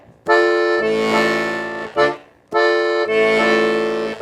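A piano accordion plays a steady syncopated bossa nova pattern, two hands of chords over bass notes, repeating in a lilting rhythm with a brief gap in the middle.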